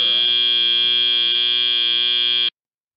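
A loud, steady electronic buzzer ends a robotics competition match, blaring for about two and a half seconds, then cutting off abruptly into silence.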